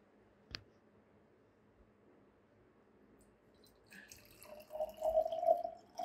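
Water from a 100 ml measure is poured onto a Pampers Premium Care diaper during an absorbency test, after a single sharp drip early on. The splashing liquid pour builds near the end and is fairly close.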